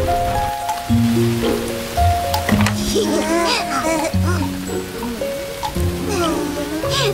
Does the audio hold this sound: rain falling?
yes